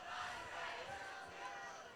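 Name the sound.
crowd cheering at a high school football game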